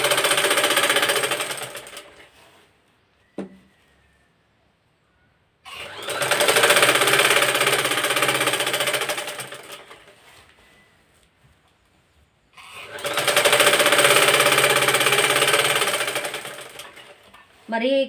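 A sewing machine stitches the last edge of a saree in three loud, steady whirring runs of a few seconds each, separated by quiet pauses.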